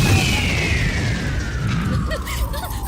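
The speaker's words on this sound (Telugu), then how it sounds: "బాణాలు బాంబుల్లా ఫేలిపోయినాయి ఏంటి?" Fireworks go off like bombs in a Telugu movie comedy scene: a long descending whistle is followed by several sharp pops and booms over a noisy background.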